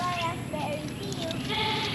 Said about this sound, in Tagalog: Sheep, move.